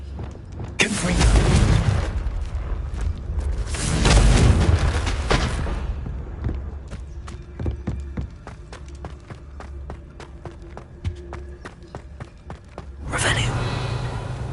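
Confringo fire spell explosions in Hogwarts Legacy burst as two loud, close roaring blasts early on, followed by crackling and clicking game sounds and another rushing blast near the end.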